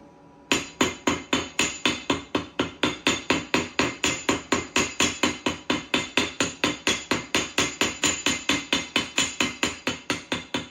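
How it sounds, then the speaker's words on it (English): A ball peen hammer rounding down the head of a copper rivet at a Viking shipyard, a fast, steady stream of close, sharp metallic taps continuing without pause and without speech. "Then I'll take a ball peen hammer"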